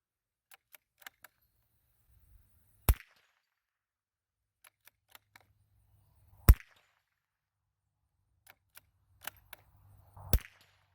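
Three sharp .22 LR rifle shots fired at a target, spaced about three to four seconds apart, each a single crisp crack with small clicks and handling noises between them, otherwise quiet.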